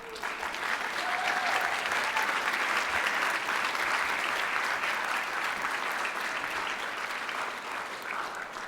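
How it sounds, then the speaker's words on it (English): A graduation audience at a veterinary medicine commencement gives a long, steady round of applause, with dense clapping from a large crowd filling the hall at a constant level throughout. "give them a huge round of applause"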